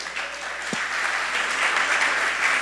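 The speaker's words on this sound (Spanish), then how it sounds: "Denle un fuerte aplauso al Señor." A church congregation gives loud applause to the Lord during a service, a steady, even wash of many hands clapping with a single low thump early on.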